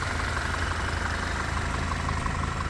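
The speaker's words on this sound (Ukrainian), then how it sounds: "Це Audi A4 з 2-літровим бензиновим двигуном з оригінальним пробігом 220 тисяч." A 2-litre petrol TFSI engine in an Audi A4 with about 220,000 km idles at a used-car market, giving a steady, close, even rumble with no talk over it.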